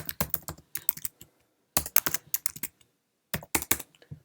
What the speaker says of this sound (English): Let's type the email in before we send.